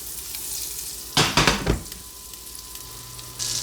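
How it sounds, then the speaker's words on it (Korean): Sixty grams of butter melting in a second frying pan, a brief close burst of sizzling and frying that fades into a quiet hiss. "다른 팬에 버터 60g을 녹이고"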